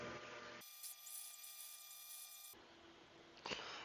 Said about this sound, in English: It'll go over and it'll start drilling